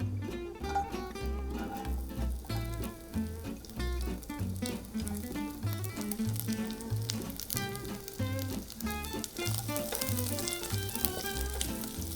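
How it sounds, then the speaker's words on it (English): Chinese sausage stir-fries in hot oil, a continuous close sizzle and crackle of frying broken by frequent scraping and tossing clatters from a utensil in the pan. "we're going to stir fry our 3 ingredients. First is going to be the Chinese sausage."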